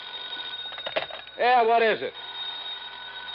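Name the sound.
telephone ringing in an old-time radio drama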